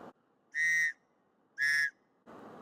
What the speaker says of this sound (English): Another whistle.